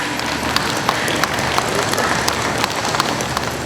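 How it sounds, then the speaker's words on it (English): A crowd applauds at a Hmong New Year gathering in Fresno: a dense, steady wash of clapping with scattered sharper claps, sustained throughout and fairly near. "yes, it's okay, you can clap"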